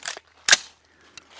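A single sharp gunshot from a 9mm carbine fired with factory ammunition, a short crack followed by a quick decay, with a fainter click before it and a small tick afterward.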